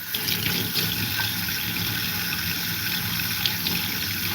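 Water from a tap pours steadily over food to rinse off cinnamon and turmeric, a close, continuous splashing hiss with no voices.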